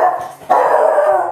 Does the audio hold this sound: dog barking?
yes